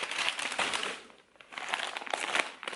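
Paper wrapping crinkles and rustles while a bag from a FASHIONPHILE order is unboxed. The crumpling is close and fairly steady, stops briefly partway, then starts again. Nobody speaks over it.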